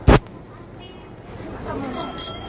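A bicycle bell rings in a couple of quick, bright bursts near the end, after a sharp knock at the start, with voices talking in the background.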